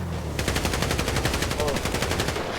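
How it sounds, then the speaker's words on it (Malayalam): Rapid automatic gunfire in a video game, aimed at a player's vehicle, rattles in a steady fast burst of repeated shots that runs nearly the whole time, loud and close. "നമ്മുടെ വണ്ടി വെടിവെച്ച് പൊട്ടിക്കാൻ"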